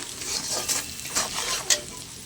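Spice masala with Kashmiri chilli powder, pepper powder, salt and a little sugar being stir-fried for a prawn and jackfruit dish, a constant close sizzle with several quick scraping spatula strokes.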